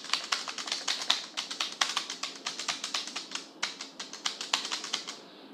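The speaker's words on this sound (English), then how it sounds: "So let me just type in this." Rapid, steady keystrokes on a computer keyboard while entering a Gmail address, a continuous close clatter of individual taps with a brief pause near the end and no talking.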